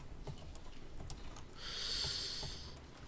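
Light typing on a computer keyboard, quiet scattered clicks spread over a few seconds, with a brief breathy hiss in the middle and no talk.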